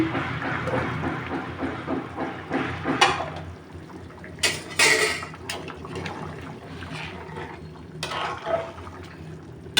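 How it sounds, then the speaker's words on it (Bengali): Beef curry with new potatoes, bird's eye chili and garlic stirred in a pot, a wet scraping and sloshing with intermittent clanks of the spoon against metal, close and moderately loud. "এবার ভালোভাবে নেড়ে চেড়ে দেবো।"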